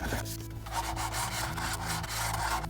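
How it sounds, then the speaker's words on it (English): Coarse sandpaper rubs over a resin model of an Aliens dropship, making quiet, close, rhythmic scratchy strokes repeated several times. "So what I like to do first is just to go over that with a coarse sandpaper, just to take off that very top layer"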